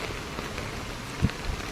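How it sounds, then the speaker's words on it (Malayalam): Monsoon rain falls at Malampuzha dam, a faint, steady hiss of drops on surfaces with a couple of soft, close thumps near the end. "മഴ ഇപ്പോഴും പെയ്തുകൊണ്ടിരിക്കുകയാണ്"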